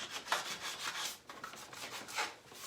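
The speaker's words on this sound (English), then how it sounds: "I'm still going to go on ahead and scuff sand" Sandpaper scuffs across a painted furniture surface in a few uneven rubbing passes, a soft close hiss that rises and falls with each stroke, with no talking.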